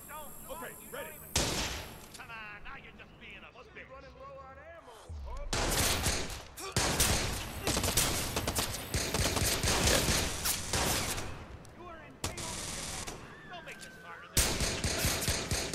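Rapid bursts of gunfire erupt in a Watch Dogs shootout with an enemy, loud volleys and sustained automatic fire recurring across the clip between short gaps, with someone talking over parts of it.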